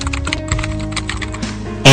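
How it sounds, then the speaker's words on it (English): Rapid keystrokes on a computer keyboard during text entry in InDesign CS3, a close, busy stream of clicks with a louder burst at the very end. "I can keep typing here"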